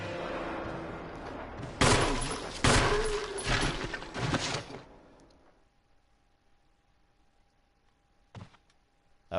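Gunfire at a zombie in the video game Resident Evil REmake: several loud, sharp gunshots in quick succession over the first half, then a fading echo, a low steady hum and one brief thud near the end.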